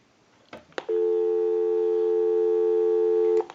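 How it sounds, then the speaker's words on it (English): A Western Electric 554 rotary wall telephone gives a busy signal as one long, steady, loud tone after a couple of brief handset clicks, cutting off with a click at the end. "We'll call my number and it'll be busy."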